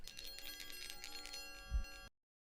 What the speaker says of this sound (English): So let's start with our bell.